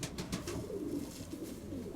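A young pigeon coos softly at close range, low repeated murmuring calls over a few light rustles, with no talk.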